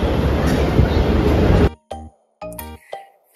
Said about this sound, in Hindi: मेट्रो अभी आ रही है, आप कह रहे चले गई।